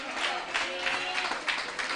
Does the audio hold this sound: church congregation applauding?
yes